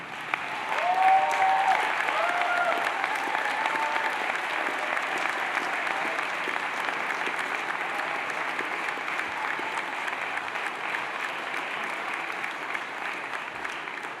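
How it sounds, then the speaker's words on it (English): Graduation ceremony audience at Cambridge university applauding their supporters, a loud, sustained crowd clapping that swells quickly and holds steady for well over ten seconds with no talk. "can I ask you all to turn around and now applaud those who have supported you throughout your period of study here at the university"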